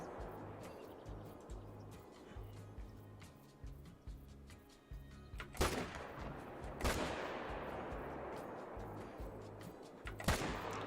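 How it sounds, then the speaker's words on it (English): Rifle shots in a hunting video game, three sharp booming reports spaced a few seconds apart with long fading echoes over a low steady background rumble, fairly faint. "Lower your head. And I'll just shoot you right there."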